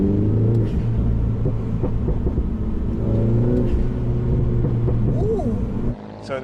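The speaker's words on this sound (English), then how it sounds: "So that's what the 2015 Mini Cooper S sounded like" A 2015 Mini Cooper S with a Borla exhaust rumbles loud and close under steady engine drone, with rising and falling rev sweeps and a sudden drop near the end as the throttle closes.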